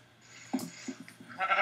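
Sheep in the Minecraft video game bleat several times in short, wavering calls, followed by brief game sound effects, with no talking.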